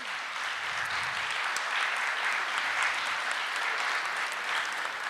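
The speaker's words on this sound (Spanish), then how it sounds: "para quien pido un caluroso aplauso también" Warm audience applause at an indigenous peoples panel session, steady continuous clapping from a seated crowd, fairly distant and even, with no talking over it.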